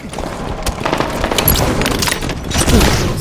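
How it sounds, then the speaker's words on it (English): Halo 5 multiplayer match with a grenade blast and rapid gunfire, a dense, loud burst of shots and booms layered over game noise. "he timed his grenade really well there"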